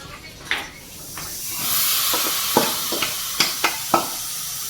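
Marinated chicken pieces, coated in spices and a little oil, sizzle in a pan: a steady frying hiss with several short crackling pops and stirring sounds, no talk.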